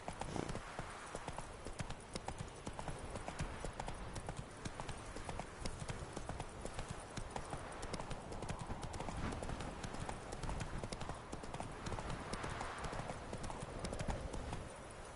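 Horse hooves clip-clop steadily at a gallop in The Witcher 3, a continuous rapid drumming beat layered over a busy game soundscape for the full stretch, with an occasional faint whinny.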